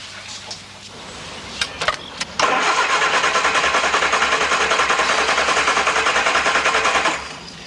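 A car engine is cranked, sputters with a few stuttering bursts, then catches and settles into a loud, steady, rough idle nearby before cutting out.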